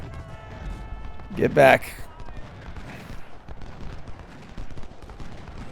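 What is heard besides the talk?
artillery and gunfire in Ultimate General: Civil War video game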